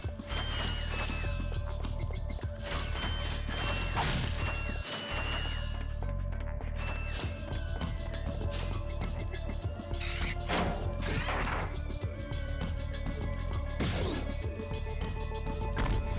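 Crates being smashed in the Ratchet and Clank game at Gemlik Base, with a long series of loud cracking breaks and mechanical clanks over a constant layer of game music and effects.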